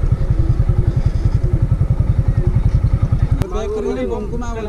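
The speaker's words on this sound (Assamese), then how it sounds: "এতিয়া ফেৰীত তুলিব লাগে বাইক" A motorcycle engine idles with a fast, steady chugging pulse near a ferry at a river ghat in Assam, then cuts out abruptly as a voice begins talking.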